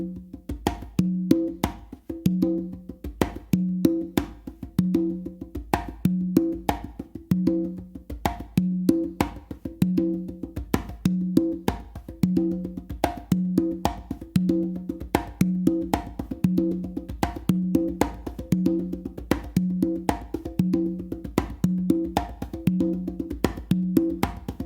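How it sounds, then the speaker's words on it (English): Congas played in a funk 3-in-1 pattern, with opens on the tumba worked into the start of each phrase: steady, repeating hand strikes in a tight groove, close and fairly loud, no voices. "do an open on the tumba and then an open on the conga."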